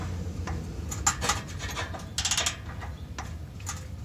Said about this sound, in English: I'm probably gonna have to use a regular ratchet for this.